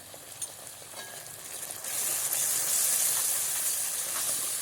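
Spices, tomato, onion paste and chili paste hit hot frying oil in a home kitchen as a family cooks Hilsa fish. A steady bright sizzle and hiss swells suddenly louder midway, close and continuous, with no talking.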